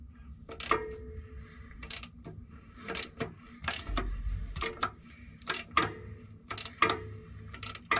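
An extension bar turns a puller on a Massey Ferguson 3075 tractor to draw the PTO gear and shaft back, giving steady, evenly spaced ratcheting clicks, faint and close, with no talking.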